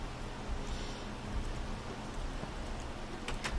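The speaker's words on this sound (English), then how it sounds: "It's just rain." Rain in the video game Minecraft with the TerraFirmaCraft mod, a soft steady hiss of falling drops at low level with a few faint clicks near the end.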